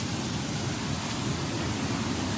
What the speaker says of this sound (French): Attendez, il pleut de fou.